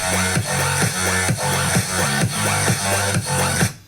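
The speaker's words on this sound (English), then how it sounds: "Today I'm going to be doing a tutorial on the bass" Electro-dubstep synth bass patch from Julian Calor's track Sorcerer, playing a loud, dense riff of stuttering, pitch-bending bass notes in a steady repeating rhythm with bright, gritty upper harmonics, heard alone without talk.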